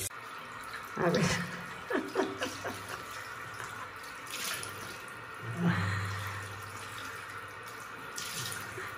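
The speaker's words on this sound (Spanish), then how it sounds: "Nos vamos a lavar la cara con este jabón." Water runs from a tap into a sink while a face is washed with soap, a steady splashing flow with a few louder gushes and some nearby talking.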